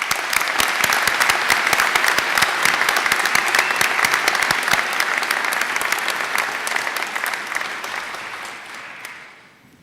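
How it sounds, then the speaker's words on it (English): A graduation ceremony audience applauds the graduates in sustained, dense clapping from a large crowd, steady at first and then gradually thinning and fading out toward the end. "everyone, in giving them a round of applause"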